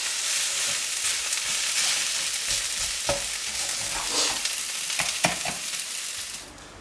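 A spiced potato masala filling for aloo paratha is stirred in a pan, giving a dense steady sizzle with scattered scraping clicks of the spoon that grow more frequent toward the end; no one talks.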